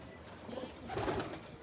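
A pigeon gives a brief, soft coo close by, faint over a quiet background.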